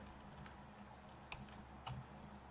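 Keys clatter on a computer keyboard during coding, a steady run of soft, close taps with a couple of slightly louder presses, over a faint background hum.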